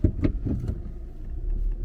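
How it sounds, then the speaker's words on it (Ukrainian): A car reverses slowly along a curb, giving a low, close engine rumble with a few soft knocks at the start and then a steady hum. "я потихеньку їду назад прямо"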